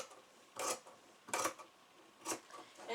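Stretch fabric for leggings is being cut: three soft, brief scraping strokes at close range in a quiet room, with short pauses between them.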